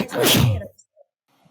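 A single sharp human sneeze bursts out loud and close, followed by a brief quiet with faint small noises afterward.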